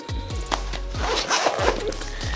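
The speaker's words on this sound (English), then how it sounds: "It zips up," A pen case being zipped up, several quick rasping zipper strokes in close succession, near and clear with no talking.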